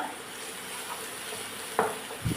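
Onions sauté with salt in a pan, with a soft, even sizzle and two brief scraping clicks of a spatula near the end.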